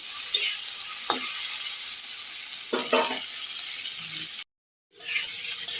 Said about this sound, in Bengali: একটু ধনে গুঁড়ো, আর একটু লঙ্কা গুঁড়ো দিয়ে আমি খুব ভালো করে এটাকে ভেজে নিচ্ছি